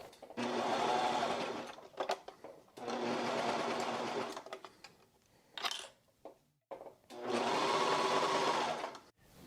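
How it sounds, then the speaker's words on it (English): A serger with its knife disabled stitching along the back edge of a hoodie's fabric, three fast whirring runs of about two seconds each separated by brief pauses with small handling clicks. "On my serger, I disabled the knife, and I'm just going to sew this right along that back edge."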